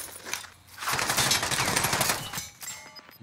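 Automatic gunfire in the shooter game COD Warzone: loud, rapid bursts of shots that swell in after a quiet start, sustain for over a second, then thin out into scattered reports.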